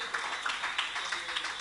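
Audience at an award ceremony giving a round of applause for a police constable, a moderate patter of many hands clapping steadily at a steady level.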